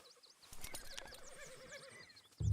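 A horse in the video game Red Dead Redemption 2 gives a clear whinny with a wavering pitch, joined by a few hoof clops and a low thump at the end, without talk.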